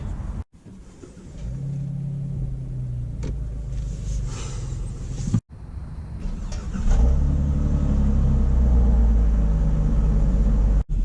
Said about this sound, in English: we're setting off here in the all-new 2018 Chrysler 300